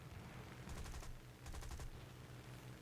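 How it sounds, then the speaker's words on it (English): Cannon fire in War Thunder from an RAF aircraft in a torpedo attack with flak: two rapid bursts of sharp, closely spaced shots over a steady low engine drone. "Sounds like a cannon."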